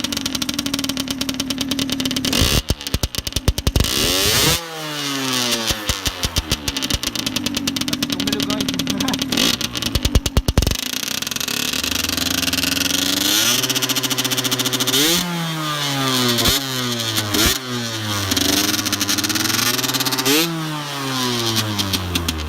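Gilera RCR motorcycle engine starts and runs, revving up and down repeatedly with rising and falling pitch sweeps, loud and close, while people talk over it throughout.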